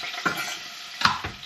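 Onion, potato and carrot are stirred in a pot for Turkish lentil soup, with a few soft scraping strokes and a faint sizzle between them, close by.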